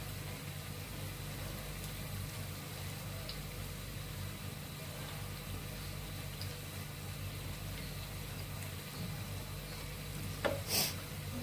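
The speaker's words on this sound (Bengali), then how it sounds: "বেগুনি ভাজা হচ্ছে" Eggplant fritters (beguni) fry in hot oil with a soft, steady sizzle over a low hum, and a brief clatter near the end; no one speaks.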